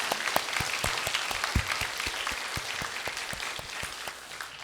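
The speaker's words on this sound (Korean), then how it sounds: "감사와 영광의 박수 우리 함께 힘있게 올려드립니다" A church congregation at a New Year's Eve service claps together in brisk, rhythmic unison, loud and sustained, filling the hall without any voices over it.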